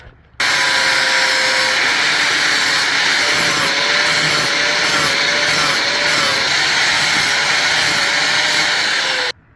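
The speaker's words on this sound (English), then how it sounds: "I'll take the grinder and carve it out." An angle grinder cuts into a metal harness bracket, a loud, sustained high-pitched whine held steady for about nine seconds with a slightly wavering pitch, starting and stopping abruptly, close to the microphone.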